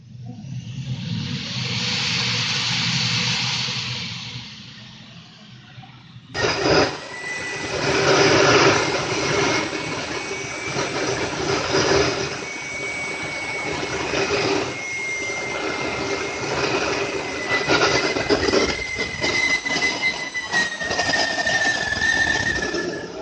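A Swiwin model jet turbine engine runs loud and steady, with a broad roaring hiss for the first few seconds, then a sharp jump to a harsher, fuller whine carrying a high tone that slowly drifts in pitch.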